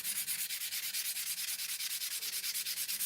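Steady back-and-forth rubbing of sandpaper by hand on a tobacco pipe at 240 grit, a continuous rhythmic hiss with regular strokes, close and alone without any talk.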